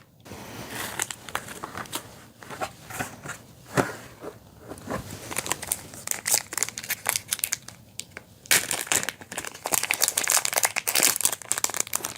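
Plastic packaging crinkled and crushed by hand while a ZeroWriter Ink keyboard device is unboxed and assembled, a run of close, irregular crackling bursts that grow busier and denser toward the end.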